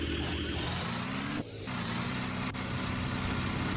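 Engine of a van idling steadily in the Roblox game Thai Rodzing, a continuous mid-pitched hum with a brief dropout partway through, steady and close with no talking.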